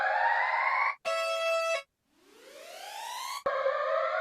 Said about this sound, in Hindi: तो देखिए ऐसे सायरन आते हैं